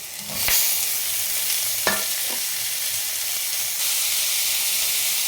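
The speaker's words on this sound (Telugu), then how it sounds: "ఇప్పుడు టమాటాలు వేసి చక్కగా కలపాలి" Tomatoes and curry leaves fry and get stirred in a pan for puffed rice upma. Steady hissing sizzle with a few sharp spoon clinks and scrapes, close by, no voices.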